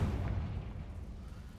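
A Confringo blasting spell bursts in Hogwarts Legacy, a deep booming explosion with a low rumble that swells at the start and slowly fades over a second and a half, heard alone without talk.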